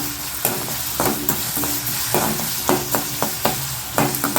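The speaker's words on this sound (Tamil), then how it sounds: "கொஞ்சம் வதங்கட்டும் வெங்காயம் வதங்கிட்டு இருக்கு" Onions frying with salt in a pan as the base for a mushroom gravy, sizzling steadily while a spatula scrapes and stirs in repeated short strokes, close and fairly loud.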